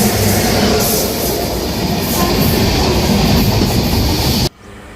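A train rushes past a stationary Jamnagar Express halted at a station, a loud, close, steady roar of wheels and rattling cars that cuts off abruptly near the end.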